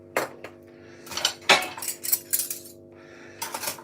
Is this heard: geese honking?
no